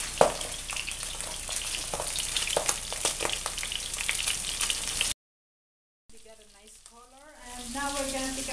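Salmon trout sizzles and fries steadily in a pan for about five seconds, a dense close crackle. After a brief silence a voice talks.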